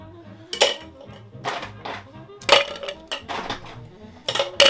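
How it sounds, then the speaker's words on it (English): Big ice cubes drop into a metal cocktail shaker tin for an espresso martini, five or so loud clattering, ringing clinks in quick bunches, close up with no voice. "And then we're gonna ice our tin."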